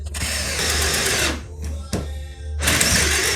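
Self-drilling screws being driven into a plastic panel on a 2013-2015 Acura ILX 2.0L, a loud close power-tool whir in two long bursts separated by a short pause.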